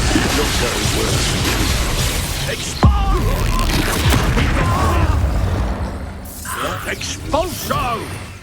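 An Expulso spell goes off in the Hogwarts Legacy video game, a booming blast with a whoosh in the middle of dense battle effects, while a character shouts spell names over the top.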